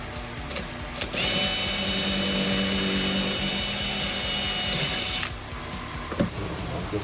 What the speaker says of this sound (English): But clearly I'm gonna have to drill a hole.